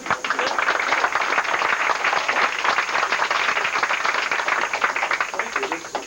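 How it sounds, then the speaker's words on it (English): Audience applause for a performer at the St Ed's talent show: dense, steady clapping from a crowd that holds evenly for about six seconds without letting up. "Would you join me in a round of applause and a few laughs"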